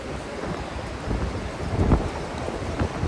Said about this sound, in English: Wow, hear that wind.